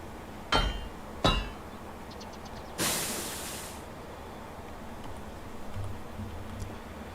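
Two sharp metallic hammer strikes ring out about a second apart while blacksmithing in the video game Medieval Dynasty, followed by a burst of hissing noise and faint light clinks.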